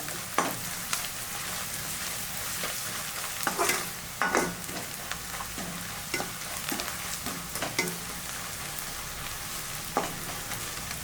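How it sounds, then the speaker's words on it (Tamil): Onion sautéing with turmeric and asafoetida in oil, a steady close sizzle broken by repeated scraping stirs of a spoon through the pan, with no talking. "இது எல்லாத்தையும் வதக்கிடணும் இந்த வெங்காயத்தோட."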